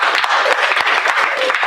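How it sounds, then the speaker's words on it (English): An audience at a conference claps for a panel, a brief burst of dense, steady applause close by. "give our panelists a round of applause"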